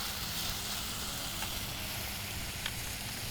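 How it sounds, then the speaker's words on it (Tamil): Chopped onions, tomato and ginger-garlic paste sauté in hot oil with spices, giving a steady, close, even sizzle with faint stirring ticks and no talking. "பொடியாக நறுக்கின வெங்காயம் சேர்த்து வதக்கியிருக்கோம்"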